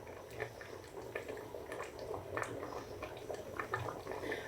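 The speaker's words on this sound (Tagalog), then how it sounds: "Ayan, ang kumukulo na." Oil bubbling and crackling steadily in a pan, a dense patter of small pops and sputters at close range, with no one speaking.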